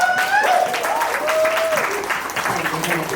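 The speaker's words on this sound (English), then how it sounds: "All those who clapped. I appreciate you." An open mic audience claps steadily and loudly, a dense burst of applause from the crowd while a voice calls out over it.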